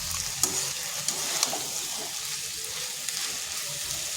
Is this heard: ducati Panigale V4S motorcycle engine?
no